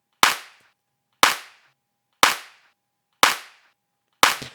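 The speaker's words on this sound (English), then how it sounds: "we're going to listen to it without the punch layer and then with the punch layer" Drum loop with an added punch layer on the hits: five sharp, loud percussive strikes spaced evenly about a second apart, each with a quick attack and short decaying tail, heard alone with no talk.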